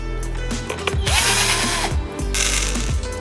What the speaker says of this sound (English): We remove the clamps, unscrew the screws,